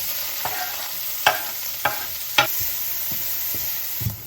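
Food browns in a hot pan during home dinner prep for ravioli, a soft steady sizzle broken by several sharp utensil scrapes and taps against the pan.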